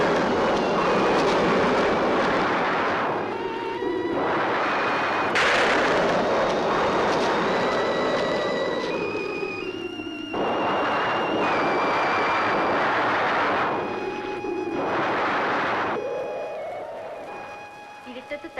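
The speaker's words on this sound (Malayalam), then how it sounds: "ഇടിയും മഴയും വരണുണ്ട്." Heavy rumbling thunder rolls in long, loud waves before rain, layered with sustained tonal music.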